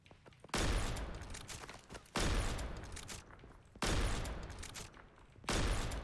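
Sniper rifle fire in the shooter game Operation Deadrop: four loud, heavy shots spaced about a second and a half apart, each a sharp blast trailing off into a long rumbling decay.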